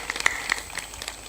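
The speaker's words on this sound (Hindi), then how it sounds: "ताली बजाकर अभिनंदन करो" An audience at a spiritual discourse welcomes a guest with light, scattered clapping, a handful of separate hand claps spread unevenly across a short moment with no speech.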